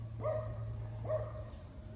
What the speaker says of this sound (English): Doggos are barking, they're having fun, birds are tweeting